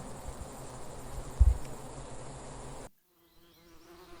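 Bees buzz in a steady, close drone that cuts off abruptly, leaving near silence with a faint hum.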